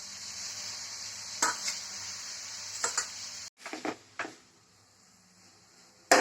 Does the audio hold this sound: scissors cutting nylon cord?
no